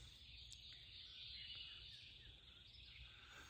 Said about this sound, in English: The birds start singing.